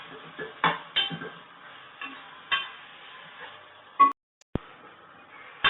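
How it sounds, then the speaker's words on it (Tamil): Tomatoes and green chillies frying in a pan while being stirred for a mutton curry, with soft sizzling under intermittent scraping and clinking of a spoon against the pan, close and fairly quiet. "தக்காளி நல்லா வதங்கட்டும்."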